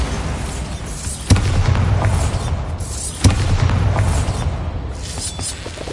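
Two booming blasts from the Bombarda spell in Hogwarts Legacy land about two seconds apart, each a sharp crack followed by a rumbling tail over a steady low game background.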